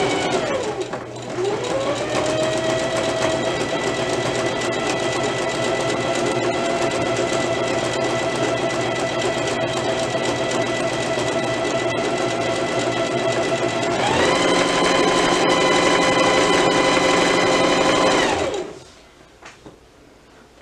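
Sewing machine stitching fabric at steady speed: a loud, continuous mechanical whir with a rhythmic needle hum, rising briefly in pace near the end before stopping abruptly into quiet.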